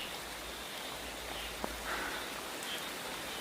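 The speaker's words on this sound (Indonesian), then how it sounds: "hujan terus ini" Steady rain falling outdoors, a soft even hiss with faint patter and a single sharp drip or tap, continuous and fairly quiet throughout, with no voices.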